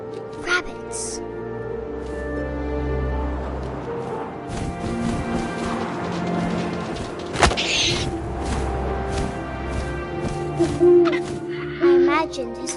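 An owl hoots in What Remains of Edith Finch, set against sustained musical tones, soft wind-like ambience and a speaking voice, with a couple of sharper bursts partway through.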